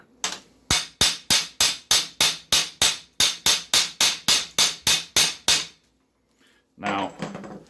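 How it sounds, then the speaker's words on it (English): A hammer strikes a steel punch to drive a roll pin out of a York split-sleeve barbell, about nineteen sharp metallic blows in a steady quick rhythm, followed by a brief scraping clatter. "I can get my trusty hammer here"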